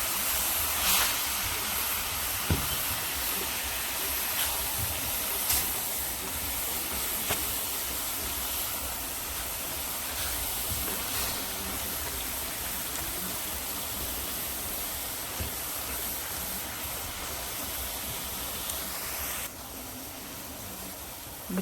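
Liquid draining off cooked lasagna meat, heard as a steady, even rush of pouring and splashing that runs unbroken, dropping slightly near the end.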